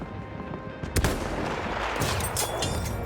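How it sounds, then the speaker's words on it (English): Gunfire from a Lee Enfield rifle in the Battlefield 1 video game, aimed at a distant bomber: one sharp, loud shot cracks out over a dense, continuous backdrop of rattling battle noise and distant firing. "Armed with a trusty Lee Enfield rifle, he takes a sighting shot on a distant bomber"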